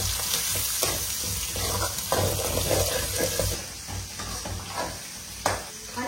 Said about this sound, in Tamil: கேரட் போட்டு சும்மா ஒரு 30 செகண்ட் வதக்கிட்டு